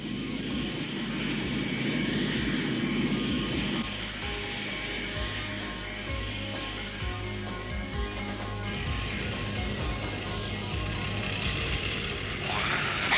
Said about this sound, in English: Here come our drone fighters.